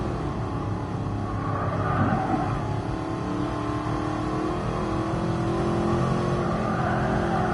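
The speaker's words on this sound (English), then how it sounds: "Now, let's see how fast it'll go. I'm really gonna push it." A Mercedes Black Series car accelerates hard around the Nürburgring, its engine a loud, continuous rumbling roar that pulls steadily throughout, heard up close from inside the car with no talking.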